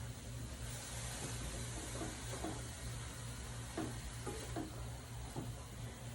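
Egg roll in a bowl mixture being stirred in a pan, continuous sizzling and frying with repeated scraping stir strokes, close and steady, no talking.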